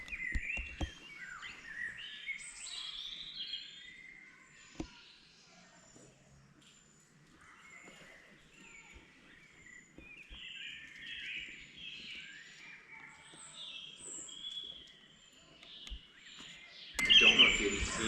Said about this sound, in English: you can hear the birds then singing